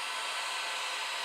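A steady, loud roaring hiss of a blowtorch flame reheating candle wax in a glass jar runs unbroken from start to finish, close up and with no voices.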